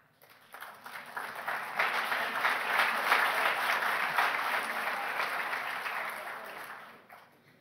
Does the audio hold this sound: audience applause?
yes